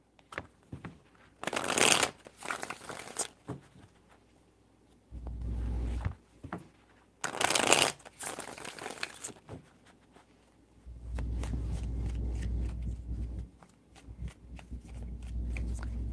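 Tarot cards are shuffled in several separate bursts of crisp riffling, close and fairly loud, with quiet gaps and low handling rumble between them.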